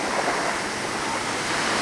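Ocean waves washing on a beach make a steady, broad hiss of surf with some wind rumble, continuous and moderately loud with no talking.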